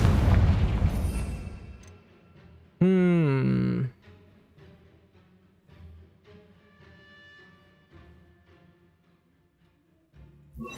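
Confringo blasting spells explode in the Hogwarts Legacy video game: a loud broadband blast opens, then a sharp rising tonal burst flares for about a second, followed by scattered softer pops and rumbles over low game ambience.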